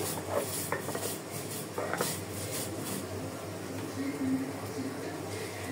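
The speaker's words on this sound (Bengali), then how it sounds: "আমি এখন কালি জিরাটা বেটে নিচ্ছি" Black cumin (kalo jira) is ground into a mash, a steady scraping and rubbing of stone or utensil against the seeds, close and moderate in loudness, with faint voice traces underneath.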